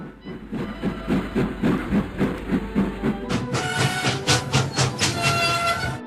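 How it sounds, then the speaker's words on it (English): A cartoon steam locomotive chuffs in with a steady, loud rhythmic puffing beat for a few seconds, then gives way to sharp bursts of hissing steam as it arrives. "Just then Henry chuffed in."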